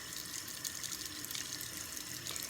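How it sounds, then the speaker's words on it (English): Water runs steadily from a bathroom sink tap during face washing, a continuous close hiss and splash with no pauses. "So I'm going to quickly wash my face."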